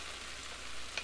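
Zucchini sizzles steadily in a hot skillet with garlic, a continuous close frying hiss with a small bump near the end as it settles into the oil.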